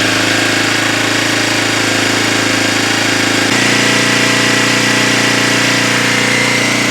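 A 2012 Kawasaki KLX 250 motorcycle engine runs steadily for the whole stretch. The loud, close idle has a rapid mechanical chatter and shifts slightly in pitch partway through. No one speaks.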